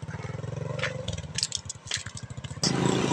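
A motorcycle with a flat tire is pushed along by hand, giving rhythmic scraping and rubbing from the deflated tire, with clattering and a low rumble that swells louder toward the end.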